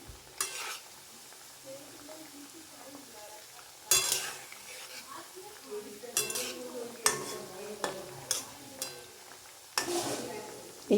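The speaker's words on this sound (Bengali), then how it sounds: "এখানে কড়াতেও ভাজতে দিয়েছি" Thekua sweets fry in oil in a wok with a soft, low sizzle, broken by repeated scraping stirs and metal clinks of a utensil against the pan.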